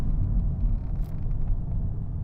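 A new Volkswagen Golf R sits just after a quarter-mile run, its engine giving off a steady low rumble close by with no speech over it.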